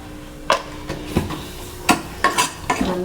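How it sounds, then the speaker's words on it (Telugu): Onions frying with chili powder, ginger and turmeric for egg bhurji give a steady low sizzle, broken by about six sharp spatula scrapes and knocks against the pan at an uneven pace. "ఇది మొత్తం ఫ్రై చేసుకోవాలి"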